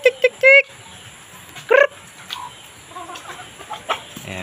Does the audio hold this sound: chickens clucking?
yes